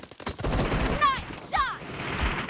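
Rapid bursts of gunfire ring out in a PUBG Mobile Gun Game match, dense loud shots in quick clusters with voices from the game heard among them.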